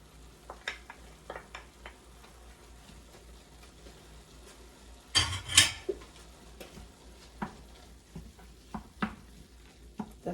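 Onion and ground meat fry in a pan under a soft sizzle, with scattered spoon scrapes and clinks of stirring and one louder clattering burst midway.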